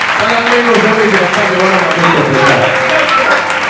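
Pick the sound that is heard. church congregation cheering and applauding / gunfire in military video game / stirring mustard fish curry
church congregation cheering and applauding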